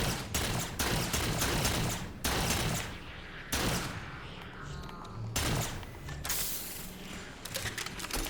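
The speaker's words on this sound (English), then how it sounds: "Shooting at a dead body." Repeated bursts of gunfire in Halo 4 as a player shoots at a dead body, several loud broadband volleys separated by short gaps, with mechanical clatter between them.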